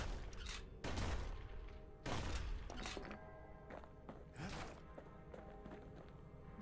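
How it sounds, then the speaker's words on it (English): Shotgun blasts in the video game Bastion, several heavy booming shots at irregular intervals with thuds and footsteps between them, loud and close. "Oh, friggin' shotgun."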